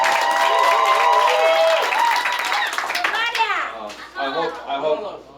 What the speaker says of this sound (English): let's give a good applause